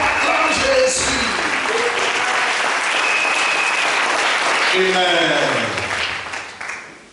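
A church congregation applauds and cheers in praise of Jesus during a Sunday worship service, sustained loud clapping across the whole stretch that fades at the end, with a voice calling out over it.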